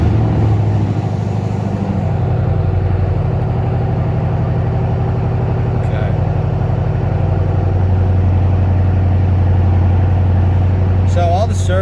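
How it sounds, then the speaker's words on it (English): A muffler-less, modified BMW Alpina B7 idles with a steady, loud low rumble. The engine drone holds constant throughout while a voice speaks briefly over it. "This car does not have any mufflers on it. It's been modified to be so it does get a little loud."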